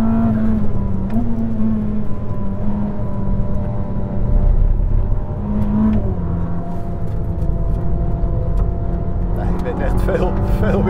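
A Ferrari SF90 Assetto Fiorano engine drones loudly from inside the cabin and climbs in pitch as it accelerates, with brief dips at gear changes. Road rumble runs underneath, and someone talks over it.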